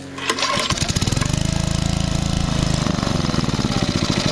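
A Generac 8838-0 small engine bought at a flea market catches after a brief start, then runs steadily at close range with a fast, even throbbing putter that holds for several seconds.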